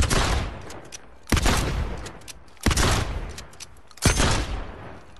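A VDR weapon in Fortnite fires four loud, sharp blasts, each about a second and a half apart, and every shot trails off into a short echoing decay.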